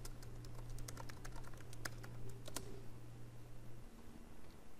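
Fingers tap out a value on a computer keyboard while editing a spreadsheet, a quick run of close, crisp clicks over a steady low hum before the keys fall quiet.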